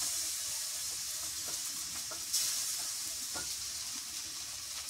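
Ginger, garlic and cumin paste fries in a pan over golden fried onions for beef curry, a steady close hiss of sizzling oil with occasional soft stirring clicks.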